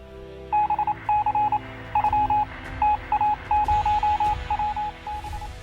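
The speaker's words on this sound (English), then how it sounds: "The letters in the Morse code as arranged." Short bursts of radio signal tones repeat in a steady rhythm over a low hum, spelling out Morse code letters from a transatlantic wireless transmission received on Marconi's early radio apparatus.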